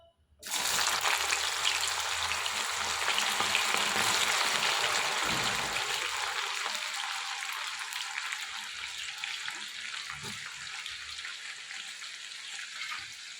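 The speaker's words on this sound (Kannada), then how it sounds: "ಈಗ ಬೆಂಡೆಕಾಯಿ ಹಾಕ್ತಾಯಿದ್ದೀನಿ, ಫ್ರೈ ಮಾಡ್ಕೊಳ್ಳೋಣ." Okra dropped into hot oil in a home kitchen sets off a loud, steady sizzle that starts abruptly and then eases slightly as the frying settles, with no talking over it.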